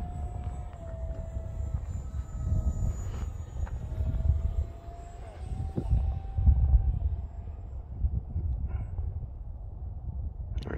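A model A-4 Skyhawk airplane with a 3-E-Sun .48 engine drones at about three-quarter throttle, a faint steady whine moving in the distance over low outdoor rumble on a cold day.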